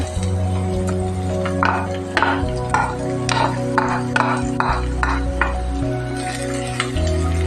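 Sliced onions frying in hot coconut oil in a pan, a close, steady sizzle broken by repeated scraping and stirring strokes and light clinks of a utensil against the pan.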